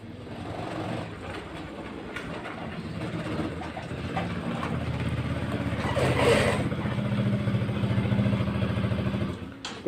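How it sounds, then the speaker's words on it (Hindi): A sewing machine runs a continuous top stitch along a blouse, its rapid rhythmic clatter steady and close, swelling slightly louder near the end before stopping. "तो इस तरह से ऊपर से एक बार और कवर सिलाई लगा लें।"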